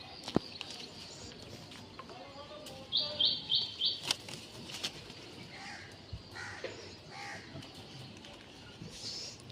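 Amid a quiet loft of domestic Madras flying pigeons, a short burst of five rapid high chirps sounds midway, with faint scattered calls and rustles before and after.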